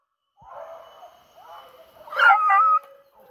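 A hunting dog on a paca hunt by a riverbank gives drawn-out whining howls, rising to a louder, strained yelp-like cry near the end, fairly close with no talk.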